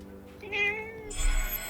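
A single drawn-out cat meow from a kitty in the video game Forspoken, close and clear over a quiet ambient bed, rising then trailing off.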